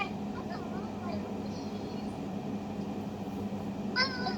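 A cat meows a few times, the short cries faint and spread across the moment, with a louder meow near the end, under steady background hum and nearby conversation.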